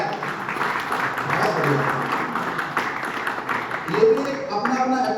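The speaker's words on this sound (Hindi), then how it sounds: "मैं चाहता हूँ एक बार जोया ताली सभी के लिए हो जाए" An indoor audience at a direct-selling seminar claps together in a moderate, continuous round of applause, while someone speaks briefly over it.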